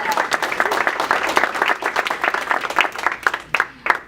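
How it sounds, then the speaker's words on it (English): Applause from a crowd at a 2014 political fundraiser in Rockville, with dense clapping sustained across the whole stretch, moderately loud, and scattered voices mixed in. "that's a good applause line"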